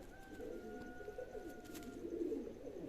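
Domestic pigeons kept for sale coo softly and somewhat distantly. A low, rolling murmur runs over quiet background noise.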